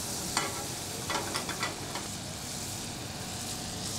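A tablespoon of butter melts in a 22 cm frying pan, giving a steady, even hiss with a few soft pops and scrapes, alone and fairly quiet.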